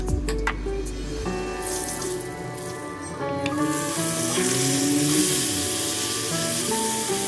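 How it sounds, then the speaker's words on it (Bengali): Paste of cashew, ginger and tomato poured into hot oil spiced with cinnamon, clove and cumin seeds, hissing in a steady sizzle with stirring scrapes for a mushroom masala, loud and close throughout. "কাজু, আদা আর টমেটোর মিশ্রণটা ঢেলে দেব"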